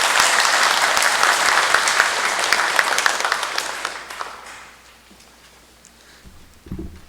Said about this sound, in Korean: 우리 박수로 환영을 하도록 합시다.